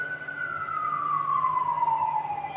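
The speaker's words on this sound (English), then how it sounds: "Sirens." A siren wails steadily, its pitch sliding slowly downward, heard at moderate distance over a low rumble.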